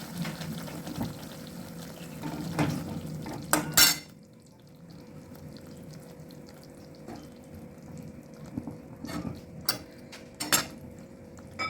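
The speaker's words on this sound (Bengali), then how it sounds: "এবার আমি পটলগুলো একে একে সব দিয়ে দেবো" Pieces of pointed gourd dropped into a pan of frying spice paste, with clattering utensil knocks and scrapes against the pan over a low steady sizzle, close and fairly quiet.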